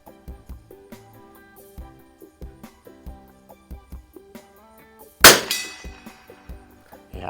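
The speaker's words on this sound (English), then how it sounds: "I can just watch when I'm hitting this gong that it's hitting exactly where I'm aiming" A Lakefield 92C bolt-action .22 target rifle fires at a steel gong on a range: a run of sharp, fairly faint pops and clangs with brief metallic ringing, then one much louder crack with a longer ring near the end.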